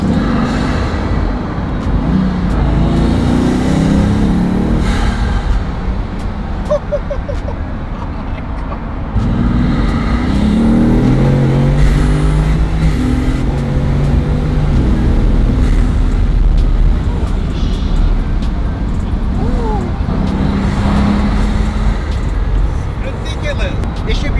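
A Bugatti's engine hums steadily while the car is driven, with a loud, continuous drone and road noise, rising in pitch at times, under someone speaking throughout.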